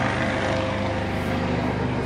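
A helicopter flies near a hospital, its engine and rotors giving a steady, loud, continuous drone with no voices heard.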